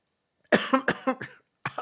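A close, harsh coughing fit from a lingering cough: several rapid coughs, a brief pause, then two more coughs.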